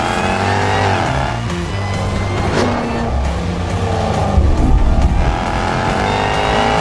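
A 600 hp 2019 Jaguar XE SV Project 8 engine roars loudly and steadily on a track, pulling hard through the gears of its manual gearbox with a rising, high-pitched whine up close.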